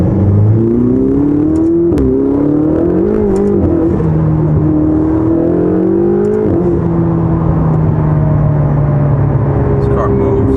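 A Ferrari sports car accelerates, heard from inside the cabin as a smooth engine drone that climbs in pitch over several seconds, settles, then holds a steady, loud hum.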